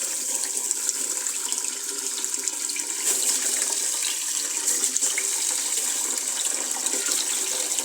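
Rice grains are rinsed under a running tap in a kitchen sink, a continuous close splashing flow of water with small trickles and shifting spatter, no voices.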